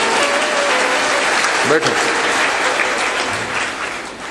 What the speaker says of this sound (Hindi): अरे ज्यादा ताली बजाओ तो 10-20 पंखे और मिलेंगे।